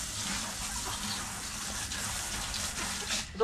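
Water pours steadily in a continuous, moderately loud gush for a few seconds, given to plants or animals that need plenty of water.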